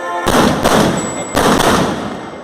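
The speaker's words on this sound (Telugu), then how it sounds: "ఇలా ఒక అరగంట దాకా బాంబులు పేలుతానండి." Diwali firecrackers exploding in Ongole, two loud close booming blasts in quick succession, each with a rumbling, crackling tail.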